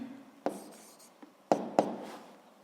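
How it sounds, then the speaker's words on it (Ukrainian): Pen writing on paper, a few scratchy strokes and taps at an uneven pace, close and clear with no talk over it. "Записуємо відповідь. Пишемо відповідь."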